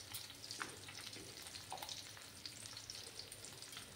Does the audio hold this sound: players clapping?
no